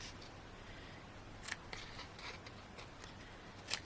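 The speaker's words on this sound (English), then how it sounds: "And then I'm just going to snip these corners where I can" Scissors snip the corners of a denim journal cover in a quiet room, giving a couple of faint, crisp cuts spaced a couple of seconds apart.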